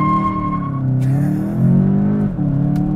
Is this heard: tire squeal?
yes